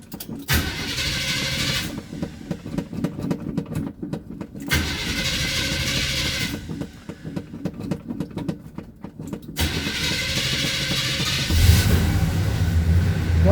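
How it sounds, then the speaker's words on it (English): A 1978 GMC C15 pickup truck, an old engine started outdoors in hot weather, cranks in three separate bursts with quiet gaps between them before catching and settling into a deeper rumbling idle at the end. "Let's see how quick this old truck will start."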